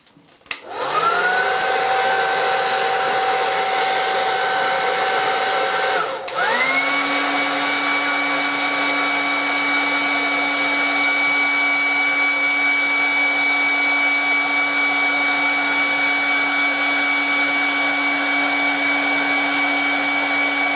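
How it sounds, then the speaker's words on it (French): A hair dryer heating a Samsung Galaxy A5 2016's back glass whirs on and blows with a steady high-pitched drone, briefly cuts out, then restarts and runs continuously. "on va mettre un coup de sèche-cheveux sur la vitre arrière"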